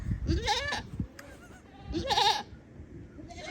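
Two loud, close baby goat bleats, one near the start and another a moment later, with quieter rustling in between.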